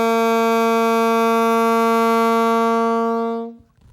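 An alto saxophone playing a single sustained G, a strong, steady, harmonically rich tone held for about three and a half seconds before it fades out, played alone.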